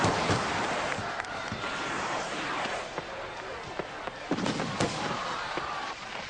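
Fireworks display at a day of festivities, scattered bangs and sharp pops over a dense crackling wash, with several louder bursts near the end and a narrating voice over it.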